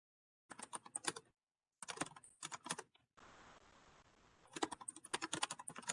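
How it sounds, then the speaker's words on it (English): Rapid clicking computer keyboard keystrokes in several bursts with short pauses between, close and clear, with a stretch of soft hiss in the middle, heard over an online committee meeting call. "We can hear someone typing."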